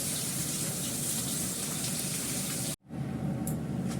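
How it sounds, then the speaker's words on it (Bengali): Fish frying in hot oil in a pan gives a loud, steady hiss and crackle that runs continuously, then briefly cuts out before returning softer, with faint sizzling pops. "আমি এটা ভেজে নিই"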